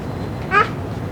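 A single short, high cat meow rises briefly out of a quiet background murmur at a meatball soup stall.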